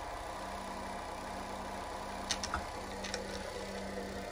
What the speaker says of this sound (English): You can hear that his sound kit just started up